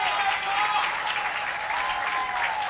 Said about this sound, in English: the cheer you hear thrown up from the crowd is for Luke Sorensen